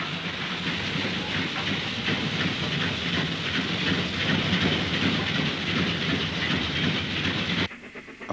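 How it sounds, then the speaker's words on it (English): Steam-era train of empty goods wagons on the Wirral near Leighton, heading down to the dock, clattering and rumbling loudly and steadily along the track close by, then cutting off abruptly near the end. "At Leighton, a load of empties clatters back down to the dock."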